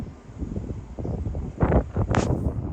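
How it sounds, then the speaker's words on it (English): Outdoor wind buffets the microphone during a truck tonneau cover install, a steady low rumble with bursts of gusting noise that swell louder in the second half; no one speaks. "I'm sorry about the wind"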